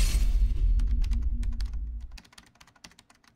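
Fast clattering keystrokes on a computer keyboard while writing PHP code, close and crisp, starting over a low hum that fades out, leaving steady irregular clicks.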